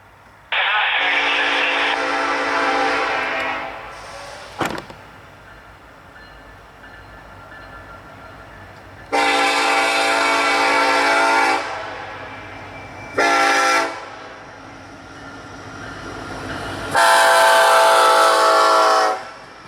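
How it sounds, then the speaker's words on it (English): A CSX freight train rolls past in Lakeland, Florida, led by an S278 locomotive whose horn sounds in several loud, close blasts, long and short, over the steady rumble of rail cars. "a very interesting train with some, let's say, very interesting power, including an S278 with a very nice horn"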